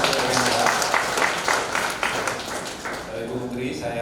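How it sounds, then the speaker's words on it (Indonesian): Steady applause from the audience at a townhall meeting for a colleague, a dense patter of many hands clapping that carries on for several seconds and tapers slightly toward the end, with voices mixed in. "Tepuk tangan untuk rekan Hendra"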